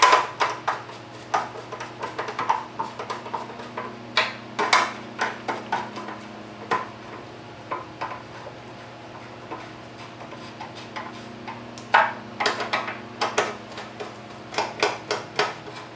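Screws being tightened on a Tecumseh recoil starter, sharp scattered metallic clicks and ticks of a ratcheting tool in irregular clusters over a low steady engine-like hum, close and fairly loud.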